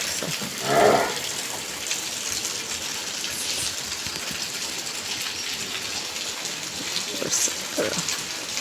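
Steady rain falls in a village, a constant hiss with a few louder splashes, near and unbroken, with no voices.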